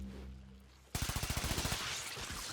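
Rapid automatic weapon fire in the sci-fi shooter game Warframe, a loud burst of about a dozen evenly spaced shots that breaks in suddenly after a low droning hum.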